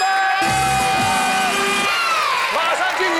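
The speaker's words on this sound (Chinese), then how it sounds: "掌声鼓励一下" Cheering and clapping from a crowd of schoolchildren at a children's game show, loud and lively, mixed with shouts and an announcer's voice.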